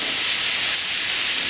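Chopped large onion frying in a large skillet over medium heat gives a steady, loud, close hiss that holds unbroken throughout, with no voices.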